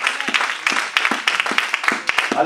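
A church congregation applauding together, dense overlapping claps forming a continuous, fairly loud burst of applause with some voices mixed in.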